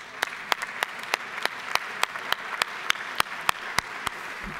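Applause rings out in the Georgia House gallery as CASA advocates, court-appointed special advocates for children, are welcomed. Steady clapping from a crowd runs throughout, with regular sharp claps standing out over a dense wash of hand noise.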